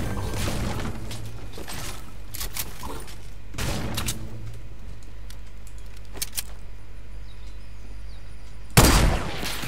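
Pump shotgun blasts in a video game: several sharp broadband shots scattered through the clip with a louder, closer burst near the end, over a steady low hum and background game noise.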